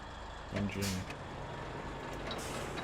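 Heavy truck engine in the SnowRunner video game starting up with a brief low rumble and a hiss like an air brake, over steady background engine noise.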